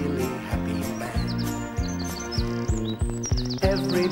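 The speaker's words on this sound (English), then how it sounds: "All the birds are singing and the day is just beginning" Birds chirp and tweet in quick, bright bursts high above a steady, bouncy musical backing, which stays loud under the calls throughout.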